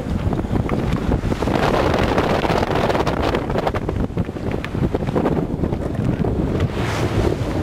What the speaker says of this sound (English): Well, that wind gets up.